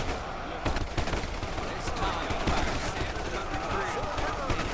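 Soldiers fire in a large battle in Ultimate Epic Battle Simulator, a dense, continuous crackle of many overlapping gunshots and distant booms at moderate loudness.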